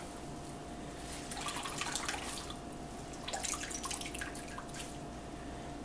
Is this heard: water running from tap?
yes